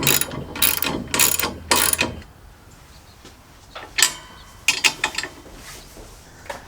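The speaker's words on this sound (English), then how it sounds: "These ones you'll have to do with a wrench just because of how close they are." A ratchet wrench tightens bolts on a Kolpin snow plow mount, first with a fast run of close clicking strokes, then a pause and a few more scattered ratchet clicks.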